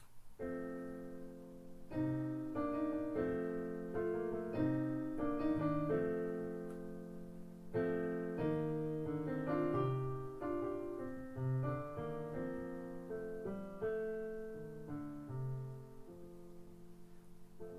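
A soft instrumental passage from Debussy's Trois Chansons, layered sustained chords and moving inner voices, played quietly at an unhurried pace with no speech.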